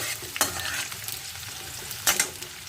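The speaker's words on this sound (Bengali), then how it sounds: "এখানে আমি পেঁয়াজটা হালকা ব্রাউন করে নেব" Onions sizzle in hot oil as they are stirred toward a light brown, with a couple of sharp spatula scrapes over a steady close fry. Brief, with no talking.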